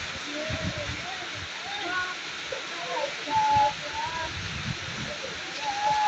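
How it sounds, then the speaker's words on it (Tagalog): Heavy rain falls steadily on a farm in Cavinti, Laguna, a dense constant hiss that continues throughout, with birds calling faintly and people talking over it. "Ang lakas ng ulan, guys."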